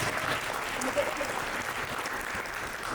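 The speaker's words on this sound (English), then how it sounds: "Let's give us ourselves a big applause for this." A conference audience at a women's empowerment event in Edmonton claps together in a steady, moderately loud burst of applause that carries on evenly for a few seconds.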